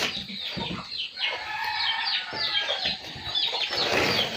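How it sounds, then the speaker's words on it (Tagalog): Chickens pecking at fallen mangoes by a rural hut, with clucking and flapping close by over steady outdoor noise. "tinutuka ng manok ang mga mangga"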